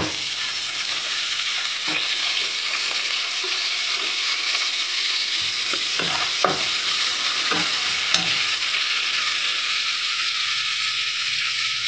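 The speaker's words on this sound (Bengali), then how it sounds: "এবার পেঁয়াজটাকে ভাজতে থাকে" Chopped onions frying in a pan for chicken biryani, a loud, continuous sizzle broken by occasional clinks and scrapes of a spoon stirring, with no voices.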